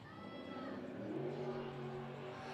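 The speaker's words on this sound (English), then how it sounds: "If you hear like race cars and stuff in the background," Race cars on a nearby racetrack drone and rise in pitch with a sustained engine whine, heard faintly and steadily in the background at an outdoor girls' softball game.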